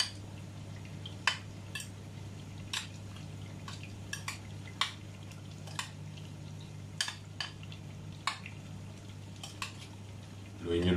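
Cucumber and pork dish being stirred in a pot, light irregular clinks and taps of a utensil against the pot over a low steady hum, fairly faint and close.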